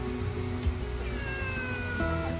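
A cat meows at a foggy campsite, a short tonal cry rising and falling over faint background ambience, close by with no talking.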